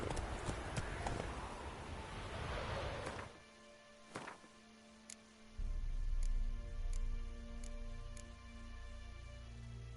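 Roach the horse galloping in The Witcher III: Wild Hunt, hooves clip-clopping near and steady with wind and ambient game sound, a sharp thump partway through, then deeper rumbling hoofbeats.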